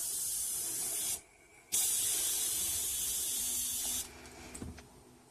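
An airbrush fed by a California Air Tools 2010A ultra quiet oil-free compressor, regulator at about 25 psi, blows a steady close hiss of air, stops briefly, then resumes and softens toward the end.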